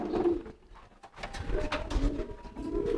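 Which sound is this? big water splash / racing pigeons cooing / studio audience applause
racing pigeons cooing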